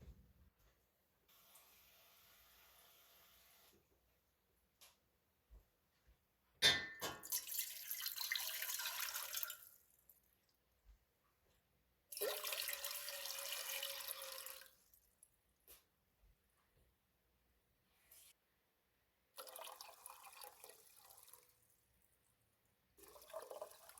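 Tap water runs in several separate bursts into a large cooking pot on a stove, each pour hissing for a few seconds between quiet pauses.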